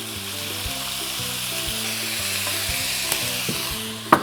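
Pork bones stir-fried in a pan seasoned with light soy sauce, a continuous close sizzle with the occasional sharp clink of the utensil against the pan, while a steady musical hum sits underneath.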